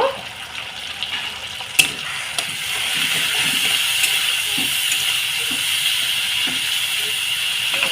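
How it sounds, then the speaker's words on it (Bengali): Warm water is poured into frying masala for egg curry, giving a steady, close hiss of sizzling with scattered clicks and taps of a utensil against the pan. "এখানে আমি উষ্ণ গরম জল নিয়েছি অল্প সামান্য দিয়ে দিলাম"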